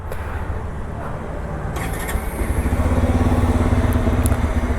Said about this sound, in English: let's also hear the exhaust note.